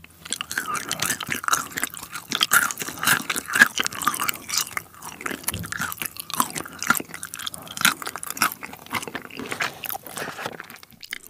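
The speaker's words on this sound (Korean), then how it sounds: "자 그러면 대망의 치킨 일단 블랙 알료 먼저 먹어보겠습니다" Someone bites into and chews Puradak Black Aglio fried chicken with garlic, producing loud close-up crunches and wet chewing in a steady run with no talking.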